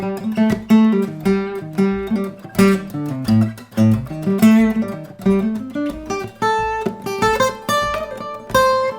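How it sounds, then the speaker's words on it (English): Guitar improvisation on a blues scale missing one note: a lively, close solo line of quick picked notes, bends and short phrases climbing higher toward the end, played alone with no talking. "So all I'm doing is practicing the blues scale with one note taken out."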